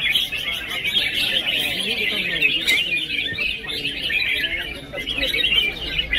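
Red-whiskered bulbuls at a bird singing contest give continuous bright chirping calls, with several birds overlapping in a busy, loud chorus that runs throughout.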